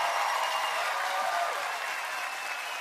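An audience applauds at a live comedy show, a dense, steady wash of many hands clapping that holds evenly for the whole stretch and fades slightly at the end, with no talk.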